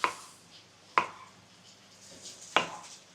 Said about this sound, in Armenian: Լոլիկը ես ոնց եմ կտրատում։